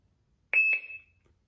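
A Fox RX+ carp fishing bite alarm gives a short, bright electronic beep, doubled quickly, when switched on, close and alone in a quiet room.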